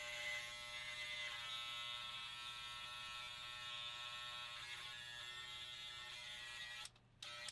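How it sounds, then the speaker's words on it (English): Electric hair clippers fitted with a number 3 guard hum steadily and close up during a barbershop mullet fade, working the corners on the sides; the buzz runs unbroken and drops out briefly near the end. "I'll use the number 3 guard and I'll just use the corners of the clipper"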